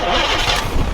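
An abandoned Oldsmobile Cutlass that sat for 15 years cranks over, trying to start, giving a brief loud rough churning engine burst, close and uneven.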